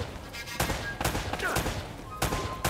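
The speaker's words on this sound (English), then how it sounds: "I hear shots" Gunfire in the video game Uncharted: Drake's Fortune, several sharp shots in irregular bursts at moderate distance over a murky game soundscape.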